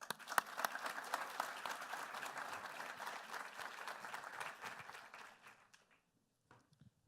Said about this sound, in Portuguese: eu convido até meu líder, porque eu sou uma das colaboradoras do seu grupo, Daniel Castanho, com uma salva de palmas